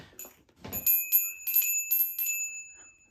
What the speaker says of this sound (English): I like to ring the bell to give that auditory cue